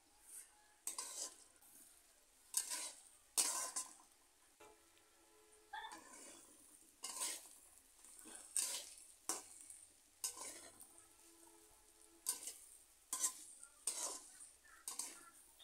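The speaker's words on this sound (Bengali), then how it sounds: "এবার আরও কিছুক্ষণ এভাবে ভেজে নেব" Bitter gourd and potato frying in a pan, stirred with a spatula in repeated scraping strokes that come in bursts, over a faint sizzle, close and fairly quiet.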